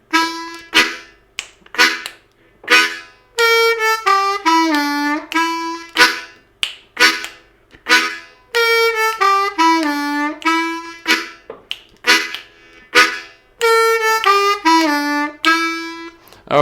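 Rhythmic chugging lick on an A harmonica, including the 2 draw, played loud and close in short repeated breathy pulses with bent tones, a steady groove of clustered notes throughout.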